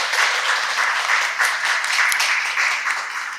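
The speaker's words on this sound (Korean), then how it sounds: "여러분 큰 박수로 환영해 주시기를" An audience at a literary festival applauds to welcome authors onstage, a dense, steady wash of clapping from many hands that fills the room without a break.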